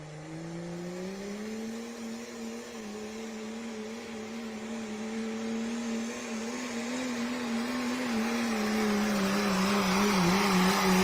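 A 2008 GMC Sierra Pro Stock diesel truck makes a pulling run, its engine droning in a sustained steady tone that swells gradually louder, with a slight waver near the end.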